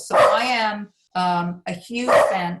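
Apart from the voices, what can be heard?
dog barking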